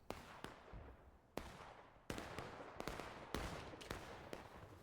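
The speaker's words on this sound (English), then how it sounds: "Why is there an arty shot explosion up there?" Artillery shells exploding in Grand Campaign, a Civil War battle game: a series of sharp booming blasts at irregular intervals, some distant and some closer, over a steady battlefield rumble with no talk.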